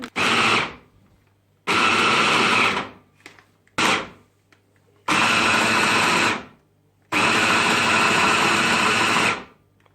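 A mixer blends homemade lemonade in a home kitchen, running in four or five loud bursts of whirring several seconds each, with short quiet pauses between them.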